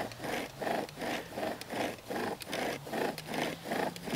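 Wooden bow drill spindle turning in a wooden notch to start a fire, a rhythmic back-and-forth rasping friction in steady strokes of about half a second each, close and fairly quiet.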